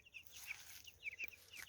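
Chickens cluck in short, scattered bursts at a distance, startled and unsettled, with soft, quiet background between the calls.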